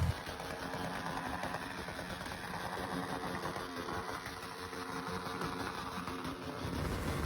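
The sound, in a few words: loud motorcycle engine with loud exhaust pipe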